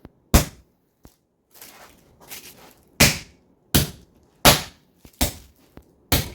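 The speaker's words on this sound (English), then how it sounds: "By the way, I smack it." A pork tenderloin is pounded with a meat tenderizer, giving sharp, loud smacks in an uneven series of about seven or eight blows, with softer handling noises between them.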